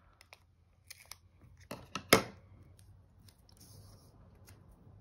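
Scissors snipping planner paper, a few sparse close cuts building to one sharp loud snip, with quiet rustling around them and no voices.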